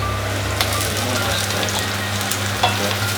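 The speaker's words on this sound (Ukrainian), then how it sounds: "цибулю я підсмажую без кришки" Onions and peppers frying uncovered in a pan for lecho, giving a steady, close sizzle with soft crackles, a low hum underneath and a couple of light clinks from stirring.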